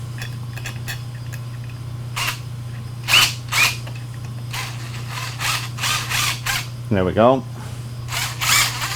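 A DEWALT drill drives a 5/16 bit into steel in short whirring bursts, with ratcheting and creaking between them, one low descending squeal, and a steady low hum underneath. A voice speaks briefly.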